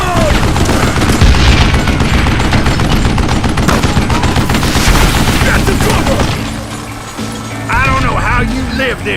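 Dense bursts of gunfire ring out in the Western shooter Call of Juarez: Gunslinger, loud and near-continuous with booms and game music, easing off near the end while a voice talks over the action.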